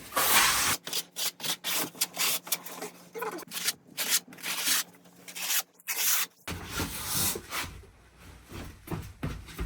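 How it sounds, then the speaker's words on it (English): The flat side of a trowel scrapes thinset into the channels around a linear shower drain, producing a series of rough, rhythmic rubbing strokes close up, with no one speaking. "So I'm just going to use my flat side of the trowel and then fill in all of these channels"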